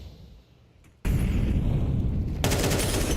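Pistol gunfire in Counter Strike 2 during an esports match, where quiet ambience suddenly gives way to loud, sustained close shots and a sharp burst near the end.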